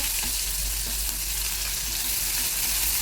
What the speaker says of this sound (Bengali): পেঁয়াজ দিয়ে দিয়েছি, পেঁয়াজগুলোকে একটুখানি হালকা করে ভাজা ভাজা করে নেবো